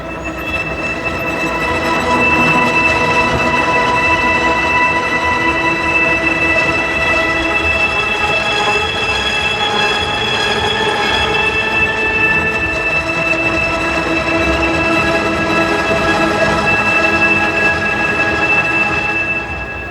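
Spitfire Audio Polaris transmission breakdown patch, an experimental synth texture: a dense, steady metallic drone with sustained tonal whines and grinding rumble, like a machine or train straining, loud and continuous throughout with no talking.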